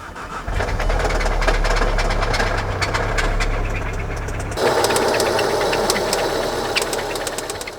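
A blown 2016 Volkswagen Golf R engine idles roughly with a steady knocking, uneven rumble, close and loud, shifting in tone about halfway through. No one speaks.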